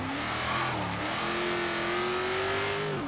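A Ford Falcon XR8 engine in Forza Horizon 3 revs steadily, its pitch climbing slowly and then dropping off, loud and close with a continuous mechanical roar and no talking.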